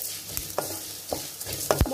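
Onions frying in a pan for Udupi-Mangalorean chicken gravy, with a steady low sizzle broken by several sharp scraping stirs of a spoon against the pan, close and fairly quiet, no voices.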